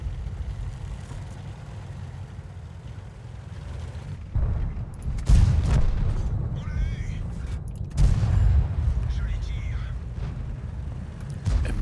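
A T30 tank cannon firing in World of Tanks, heard as a loud, sharp boom at about the five-second mark with a second blast near eight seconds, set over a steady engine rumble.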